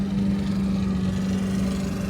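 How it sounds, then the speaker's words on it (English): A lawn mower runs steadily somewhere in a faded rural Missouri river town, giving a continuous, even engine drone at moderate distance with no break and no talking. "Somebody's mowing his lawn."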